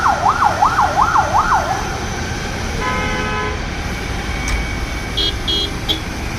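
A fire engine siren wails in rising and falling sweeps at the scene of a car fire, loud for about two seconds, followed by a short tonal horn burst and scattered beeps over steady street noise.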